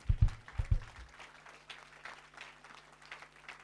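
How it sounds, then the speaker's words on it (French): A church congregation applauds loudly, a dense burst of clapping and cheering that swells at first and then tapers off into scattered claps and murmuring. "je voudrais qu'on acclame très fort la parole de Dieu"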